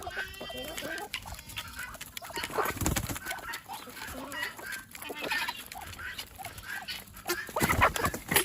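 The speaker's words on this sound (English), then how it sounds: "the chickens are going nuts in my food." Chickens cluck and squawk excitedly close by, with honking birds mixed in, a continuous agitated flock noise on a homestead.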